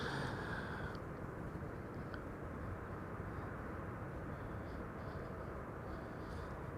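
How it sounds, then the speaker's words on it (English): A KLM Airbus A321neo arriving from Zurich at Amsterdam Schiphol produces a continuous, fairly distant engine roar that stays even across the whole stretch, with no voices. "1920 arriving from Zurich, A321neo"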